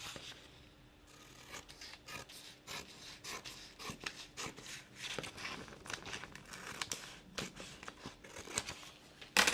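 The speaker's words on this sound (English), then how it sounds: "So let's just cut out our template." Scissors cut out a paper template for a pleated patch pocket, giving a quiet, continuous run of rustling, crinkling snips close by, with no voices.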